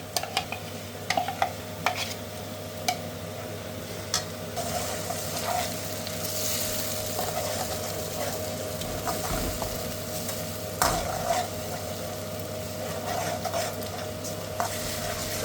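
Onions fry with spices in a pan, a steady close sizzle with occasional stirring scrapes and light clinks from utensils.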